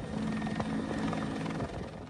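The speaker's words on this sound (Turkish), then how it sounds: "İhbar üzerine harekete geçen sahil güvenlik ekipleri helikopterle geminin bulunduğu bölgeye" A coast guard search-and-rescue helicopter flies over the sea toward a stricken Russian cargo ship, its rotor giving a steady loud thrumming drone with a low throbbing hum, held at a near constant level and no talk.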